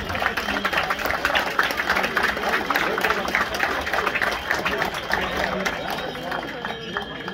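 Crowd at a village fair rodeo in Guatemala applauding strongly, dense sustained clapping and cheering from many people filling the space for several seconds.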